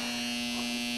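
A South Bend ten-inch lathe runs with a steady, even electric motor hum and buzz. It sounds continuous and fairly close, and no one speaks.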